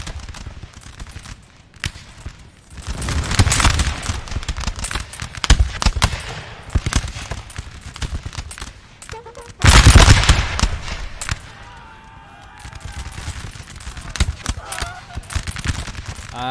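Musket volleys crackle across a battlefield in Napoleon Total War, as dense rolling fusillades with sharp peaks and quieter spells between bursts, heard alongside game ambience.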